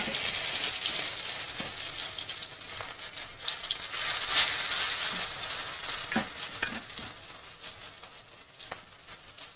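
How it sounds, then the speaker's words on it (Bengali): Chicken pieces frying in hot oil while making spring rolls, a steady close sizzle with bursts of crackling and occasional stirring scrapes, loudest midway, no voices. "এবার আমি চিকেনগুলো দিয়ে দেবো।"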